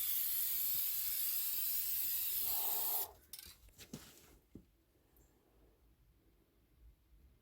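Aerosol spray hisses steadily and loudly onto shoes being prepared for hydro-dipping for about three seconds, then stops, leaving soft handling noises.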